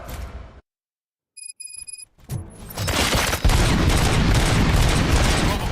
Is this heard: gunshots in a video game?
yes